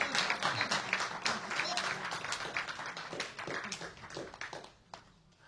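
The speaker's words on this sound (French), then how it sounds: "Est-ce qu'on peut applaudir pour eux?" Congregation applauding during a French-language church service, a steady patter of many hands clapping at moderate distance that fades out toward the end.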